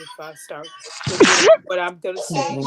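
A single loud sneeze from a person, bursting out in the middle of talk, with speech continuing right before and after it.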